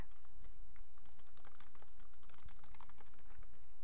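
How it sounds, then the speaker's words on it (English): Quick, steady keystrokes on a computer keyboard as a book title is typed, close-up and moderately quiet, forming one continuous run of tapping with no voices. "type in the entire title of that book"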